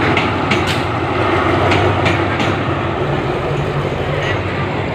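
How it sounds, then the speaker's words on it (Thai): An empty railway locomotive rolls through Bang Sue station with a steady, loud rumble and wheel noise that holds for the whole stretch, with faint clatter on top. "นั่นเป็นรถจักรเปล่านะฮะ"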